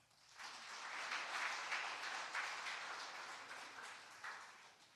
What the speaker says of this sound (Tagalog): Praise God po, lahat pumalakpak.